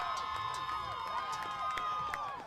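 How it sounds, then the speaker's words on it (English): Home fans in the stands roar and cheer after a penalty goal at a soccer match, a sustained crowd noise with shrill whistle-like tones and scattered shouts over it. "Tempo faithful in the stands cheering on the boys in red."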